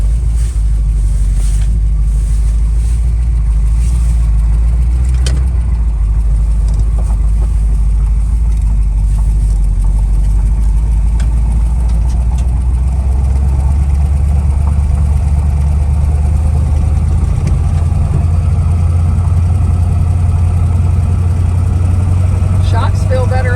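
Engine of a 1965 Mercury Comet Caliente convertible while driving, a loud steady low rumble with wind noise throughout; people talk quietly at moments.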